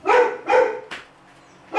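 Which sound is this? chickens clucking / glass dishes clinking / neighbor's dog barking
neighbor's dog barking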